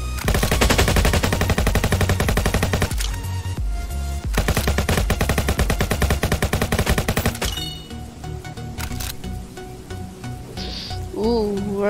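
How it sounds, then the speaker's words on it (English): Rapid bursts of gunfire from the Roblox game Jailbreak fill most of the stretch in dense automatic volleys, then thin out into sparser shots and game sounds near the end. "I'll just be shooting other cops and killing them"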